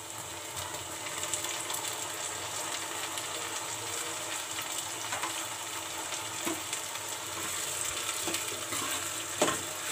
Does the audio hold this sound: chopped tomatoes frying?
yes